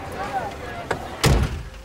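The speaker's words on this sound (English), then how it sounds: "Shut the door!" A door bangs shut with a single loud thump after a brief creak, heard indoors in a drama scene with faint background sound before it.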